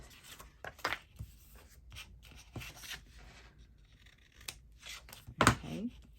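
Close, quiet handling of a paper envelope being folded over for a journal: soft rustles, creases and brief scrapes, with a sharper crinkle near the end.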